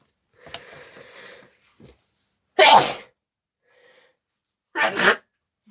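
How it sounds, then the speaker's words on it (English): Two loud, explosive human sneezes about two seconds apart, each a sharp burst standing alone after some quieter shuffling and breathy sounds. "Hi, welcome to the sneezing channel."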